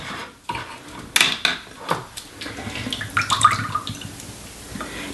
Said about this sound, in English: First thing, drain the chickpeas.